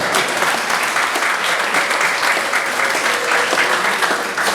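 Guests at a civil wedding ceremony burst into sustained applause, a thick, even wash of many hands clapping that stays strong and unbroken from start to finish.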